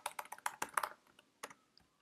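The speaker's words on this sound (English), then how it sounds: "you could even just write, hi Bob, check this out" Typing on a computer keyboard: a quick run of close key clicks in an irregular rhythm, thinning to a few scattered taps and then stopping, with no voices.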